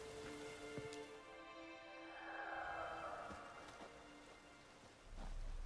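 Soft, steady rainfall patters in The Witcher 3: Wild Hunt, quiet and continuous beneath sustained tonal game music, with a few faint thumps and a brief swell in the middle.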